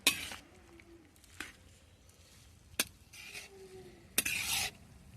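Moringa flowers being stirred slowly in a pan for bhurji: a faint background sizzle with separate scrapes and clinks of a spoon against the pan at irregular intervals, and no voices.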